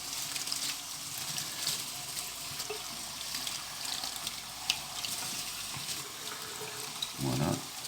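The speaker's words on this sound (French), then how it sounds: "je vais rincer ça parce qu'il y a plein de graines qui sont collées dedans évidemment" Germinated canary seeds rinsed in a metal strainer under a running tap, a steady close hiss of flowing water with light splashes and a stronger gush near the end, a voice faintly present underneath.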